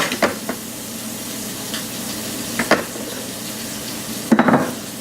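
Vegetables sauté in a pan with a low background sizzle, broken by a few scraping stirring strokes and a sharper clatter of utensil on pan near the end; no voices.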